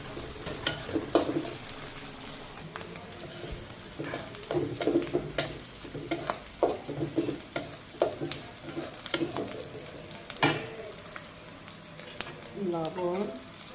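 Chopped red onion frying in a pan while being stirred, a low sizzle with irregular scraping and clattering strokes, close and moderately loud, with a voice talking briefly near the end.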